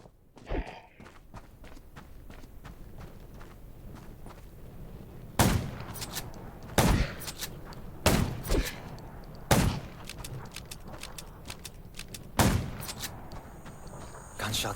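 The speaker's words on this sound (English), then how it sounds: "Gunshots will attract more zombies." Gunfire in the video game Undawn, a handful of sharp separate shots spaced a second or so apart over a low background of footsteps and ambience.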